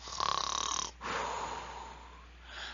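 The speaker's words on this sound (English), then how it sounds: "Soon he fell asleep and began to snore." A single snoring breath from a frog, a rough rattling inhale followed by a softer, wheezy exhale, close and fairly quiet.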